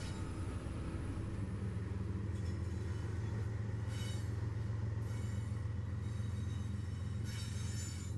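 A freight train rolls past on the Fords Branch coal line, a steady heavy rumble with grinding wheel noise and brief high squeals from the rails, continuous and fairly close throughout.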